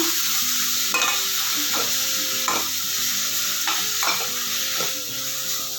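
Okra with salt and turmeric frying in oil for bhindi gojju, a loud, constant sizzle with repeated spoon scrapes and stirring strokes roughly every second, close up and alone.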